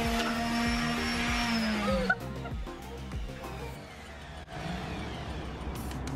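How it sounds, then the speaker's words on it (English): A powered electric sander working over wooden boards for a DIY coffee bar shelf gives a loud, steady motor whine with a buzzing scrub, dipping briefly partway through before carrying on close by. "started sanding everything"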